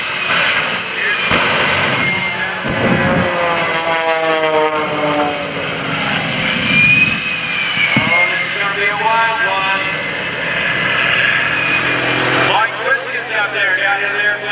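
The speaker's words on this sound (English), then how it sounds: "Paul Stender, play with the afterburner again" A jet-powered school bus runs its afterburner at the 2014 Greenwood Lake airshow, a loud continuous roaring rush with rising and falling tonal whine, steady and close, with commentary talking over it throughout.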